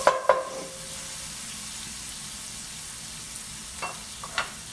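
Steak cooks in a cast iron skillet with the heat turned down, a low steady sizzle opening with a couple of metallic clanks and later faint utensil taps.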